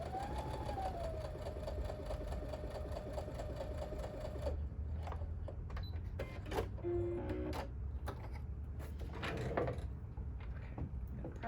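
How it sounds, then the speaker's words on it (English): A sewing machine stitches quilt fabric along a marked line, a steady close mechanical whir running for several seconds, then breaking into short bursts and stops with small clicks and handling noises. "I'm going to sew right on that marked line"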